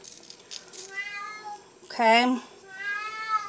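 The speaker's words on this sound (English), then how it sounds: "That is my male cat and one of the cats next door is in heat," A male cat gives a loud, drawn-out meow mid-clip, with quieter yowling cat calls before and after, while someone speaks briefly nearby.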